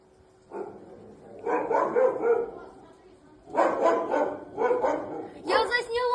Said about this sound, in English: Also hear them dogs.